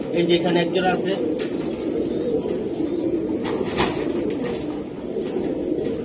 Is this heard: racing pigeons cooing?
yes